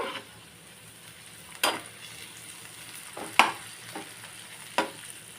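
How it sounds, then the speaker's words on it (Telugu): A spoon stirs chopped tomatoes frying in a pan, a steady sizzle running throughout with three sharp scraping clanks spaced a couple of seconds apart, close and fairly quiet, no voices. "ఇప్పుడు ఈ టమాటా ముక్కలను కూడా ఒకసారి కలబెడదాము"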